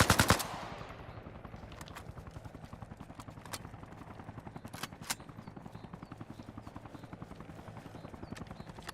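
Sustained automatic rifle fire in the military shooter game Arma Reforger: a long, rapid, evenly spaced burst of close shots after a sharp opening blast, with a few louder reports mixed in.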